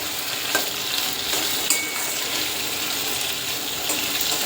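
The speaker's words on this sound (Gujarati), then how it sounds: "મીઠું એડ કરીશું અને 2 મિનિટ માટે ફ્રાય કરીશું" Vegetables frying in a pan with salt added, a steady close sizzle with the scrape and clatter of a spoon stirring them, no voices.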